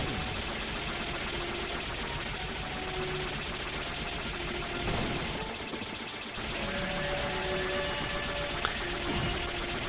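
Weapon fire in the side-scrolling video game Iconoclasts, a dense continuous rattle of shots and blasts with a brief break in the middle, under steady game music with no voices.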